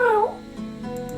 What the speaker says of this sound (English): A small creature that looks rather like a black cat rubs up against Mateo's leg, meowing for his attention.